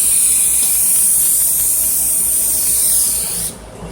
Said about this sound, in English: you just simply spray the can